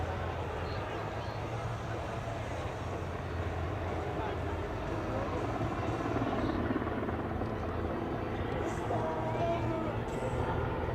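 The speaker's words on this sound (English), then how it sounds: "You see, it's a quite heavy and big helicopter" A large, heavy Super Puma helicopter flies an airshow display at Leszno, its rotor and turbine droning in a continuous steady throb at moderate distance, with no pause or break.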